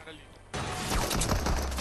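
Gunfire in a Fortnite-style video game, a rapid burst of shots that starts suddenly and keeps rattling over game noise, with players' voices partly mixed in.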